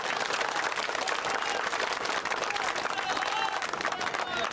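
A large crowd at an open-air election rally in Lalgarh, Shivpuri claps continuously, a loud sustained wash of applause with shouting voices mixed through it.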